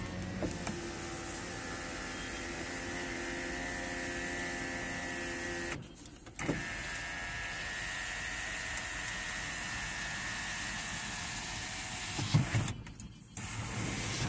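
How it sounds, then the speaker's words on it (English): Electric sunroof motor on a low-mileage Hummer H2, a steady close mechanical whir running for several seconds, pausing with a soft clunk, then whirring again until a second stop. "Sunroof."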